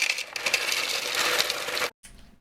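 Ice shaken and rattling inside a styrofoam cup, a close, crisp, continuous clatter for about two seconds before stopping abruptly, with a faint trailing rustle.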